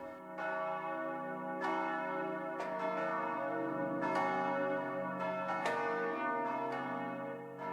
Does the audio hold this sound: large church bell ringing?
yes